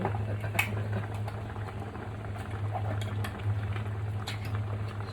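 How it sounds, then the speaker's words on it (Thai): A pot of southern Thai sour curry with pineapple boils steadily, bubbling and pattering in a soft continuous simmer close by, with a low background hum and no talking. "เริ่มเดือดแล้ว แล้วก็เดี๋ยวให้เดือดอีกสักพักนึง"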